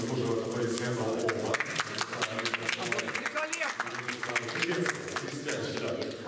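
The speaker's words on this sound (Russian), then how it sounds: "Еще раз заслуживают аплодисменты." Scattered hand clapping from a small group at a 3x3 basketball final runs throughout, with voices talking over the applause.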